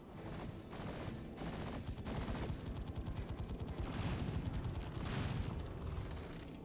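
Space combat gunfire in the video game Star Conflict crackles as rapid, dense bursts of shots and booms that keep going throughout at moderate loudness, with no talk.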